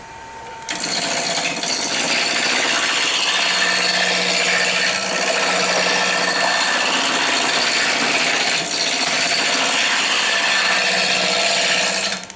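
A wide woodturning tool shears shallow shavings from spinning wood on a lathe, giving a loud, continuous, close scraping hiss that holds steady for the whole stretch, with no talking.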